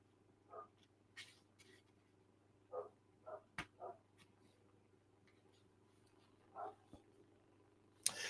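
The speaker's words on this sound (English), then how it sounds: "He is outside and he's barking his head off" A dog barks outdoors in short bursts, roughly six separate yelps spread across the span, faint and distant against a steady low hum with no talking.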